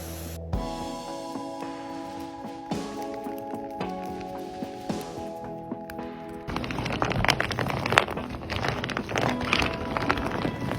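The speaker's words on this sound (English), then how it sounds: "High-pressure water restores grip by safely cleaning a dusty climbing hold." A high-pressure water jet sprays a dusty climbing hold clean, a loud broadband hiss that cuts in abruptly over the last few seconds after steady sustained tones.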